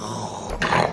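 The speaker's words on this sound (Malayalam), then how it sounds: "അത് കാട്ടുപന്നി മുരളു" A wild boar gives a short, low growl close by, a rough guttural rumble that swells briefly near the end of the one-second moment, with no talk.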